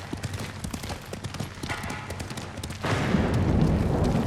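A horse gallops in the video game Ghost of Tsushima, with quick, rhythmic hoofbeats up close, then a sudden, louder rush of noise and movement that swells in the final stretch.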